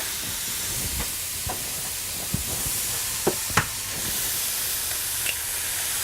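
Homemade chorizo sizzles in a frying pan with a steady, close hiss of frying fat, broken by a few soft clicks and taps of a utensil.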